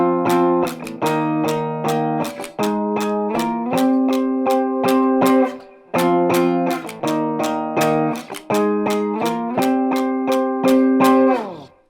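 Electric guitar strumming a rhythm, loud chords in a choppy down-down pattern with brief muted gaps, repeated twice with no voice.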